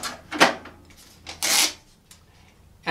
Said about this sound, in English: the cash drawer automatically kicks out and the receipt prints